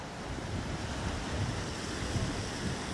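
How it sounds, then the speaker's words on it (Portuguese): Seafront waves wash along the beach at Fortaleza, Ceará, a continuous low surf rumble blended with wind buffeting the microphone, with no talking. "Essa aqui é a famosa beira-mar de Fortaleza."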